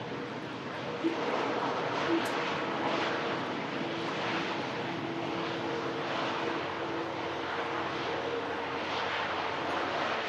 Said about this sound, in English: Beautiful landing there. Virgin Atlantic A350 1000 series.